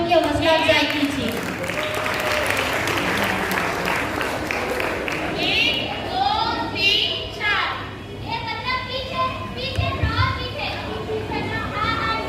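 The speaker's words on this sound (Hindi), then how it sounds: "जोरदार तालियों के साथ साथियों की हौसला अफजाई कीजिए।" Audience applause at a Ghalib celebration, loud sustained clapping mixed with children's voices and crowd chatter, fading as speech takes over.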